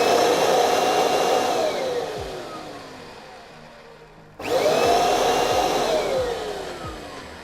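A Kirby vacuum cleaner runs through its hose attachment, a steady loud motor whine that winds down around the middle, falls nearly silent, then kicks back up to full power for the rest.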